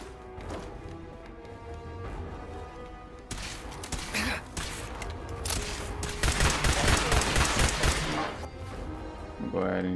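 Automated turrets in Fallout 4 open fire in rapid bursts of gunfire and impacts that grow denser and louder in the second half, with talk mixed in underneath.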